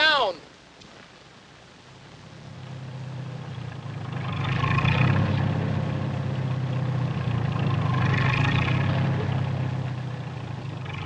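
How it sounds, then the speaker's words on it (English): A tractor engine idles and rumbles steadily nearby, rising slightly in intensity, with people talking over it at moments. "You drive the tractor forward"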